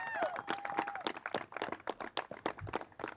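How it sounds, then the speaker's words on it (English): Applause breaks out at the 2020 Rangeley high school graduation ceremony, a dense patter of many hands clapping at moderate volume with a whistle near the start, then thinning into scattered individual claps. "Big round of applause for Sonja Johnson"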